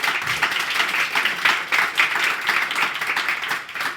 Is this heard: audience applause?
yes